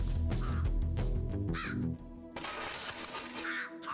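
Raven caws from the video game Death Must Die ring out over dense game music and combat effects, a few harsh calls standing out in the busy mix.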